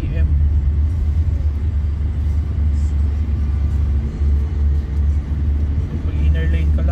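A 2023 Honda BR-V climbs the Antipolo Zigzag Road at about 2,500 to 3,000 RPM, its engine giving a steady low cabin drone and rumble while someone talks over it.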